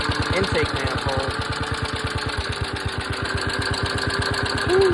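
A stock Husqvarna engine fitted with a swapped PZ19 carburetor runs close by with a steady, rapid chugging rhythm, swelling briefly louder near the end.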